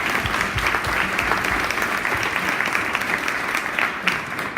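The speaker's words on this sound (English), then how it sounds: "Can we give them a round of applause?" An audience at a panel talk on early childhood education costs applauds sponsors, a steady, dense round of clapping that holds at even loudness throughout without any voices.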